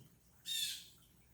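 A single harsh, high squawk from a large bird, loud and brief, rising out of a quiet background.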